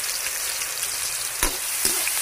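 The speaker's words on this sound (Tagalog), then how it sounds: "Ngayon haluin natin yan" Garlic and onions frying in a pan while being stirred, a steady bright sizzle with two sharp scraping clacks of the utensil, close and alone.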